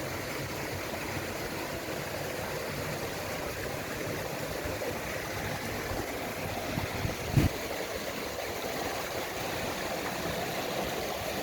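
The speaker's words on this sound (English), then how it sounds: "So this is the George River." The George River in St. Joseph, Barbados, flows as a steady, moderate stream, a continuous close watery rush with a brief louder splash or knock partway through and no talking.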